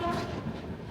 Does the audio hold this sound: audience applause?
no